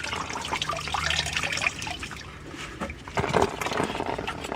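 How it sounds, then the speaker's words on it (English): Coolant trickles and drips from the water pump of a BMW N52 engine into a bucket, a continuous wet splashing with a few louder bursts, close by. "I can see water dripping coming out of the water pump."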